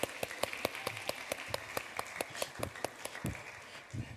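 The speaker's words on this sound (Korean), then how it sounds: "우리 박수로 한번 맞아보겠습니다" A church audience claps in unison, with about four crisp, evenly spaced beats per second at a quiet, distant level and no voices over them.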